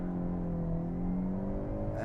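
A 2022 Hyundai Elantra N holds a launch-control launch at a 3,500 RPM limit, its engine droning steadily and loudly, then rising in pitch toward the end as it accelerates away.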